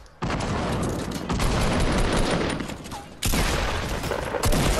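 Gunfire in the video game Fortnite Battle Royale: dense, loud, crackling volleys of shots that fill the clip, with a brief gap before the firing resumes.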